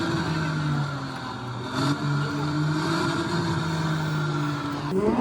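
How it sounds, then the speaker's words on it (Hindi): A Porsche RS engine idles and revs at close range, its steady throb rising and falling through the whole stretch, with a sharper rev near the end and no talk. "3D RS का इंजन जो है चालू कर दिया, रेस दे जा रहे हैं"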